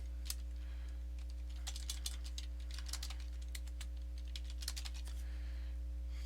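Fingers tap out a password on a computer keyboard in quick irregular bursts of clicks over a steady low electrical hum, with no voices.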